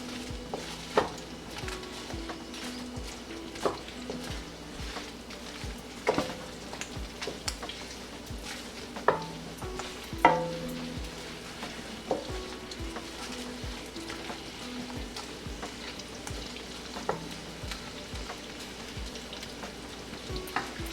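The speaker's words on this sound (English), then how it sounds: "Give it a good stir. And saute it for at least 30 seconds to a minute." Vegetables with a cinnamon stick sautéing for a vegetable jalfrezi curry, a steady soft sizzle under repeated scrapes and clicks of a spoon stirring the pan, moderately close with no talking.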